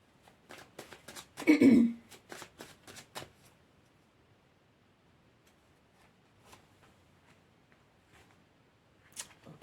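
Tarot cards shuffled by hand in a flurry of rapid flicking riffles near the start, then sparse quiet slides and taps as cards are drawn, close and fairly soft with no talk.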